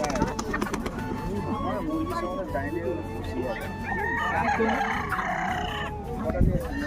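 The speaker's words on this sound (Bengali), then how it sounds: "তোমরা দেখতে থাকো মোরগ লড়াইটা" A rooster at a village cockfight during a crowded Sundarbans tribal Tusu fair crows and clucks amid steady crowd noise, with people talking close by.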